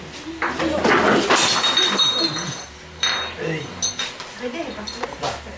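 Glass breaks and shatters indoors at a home church gathering, with loud crashing clinks followed by scattered tinkling of fragments. Voices talk over and between the breaks.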